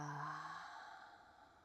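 During yoga breathing, a person lets out one audible exhale through the mouth, a soft breathy sigh that starts with a faint voiced tone and then fades out gently, close and quiet.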